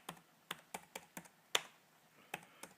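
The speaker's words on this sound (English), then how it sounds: "Go over here to your computer and type in sacred geometry." Individual keys clack on a computer keyboard in irregular, unhurried strokes, about ten separate taps with one sharper hit, close and fairly quiet with nothing else around them.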